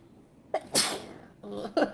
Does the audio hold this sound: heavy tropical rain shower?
no